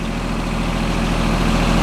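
A John Deere 850 tractor's engine idles steadily on a paved clean-out area, a continuous low rumble with a regular beat that holds at one level throughout.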